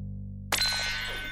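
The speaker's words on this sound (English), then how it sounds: "It's the Doodlebop Red Hot Phone!" A Doodlebop Red Hot Phone toy rings with a sudden bright metallic clang after a brief low hum, its ringing tone ringing out and slowly fading, close and fairly loud.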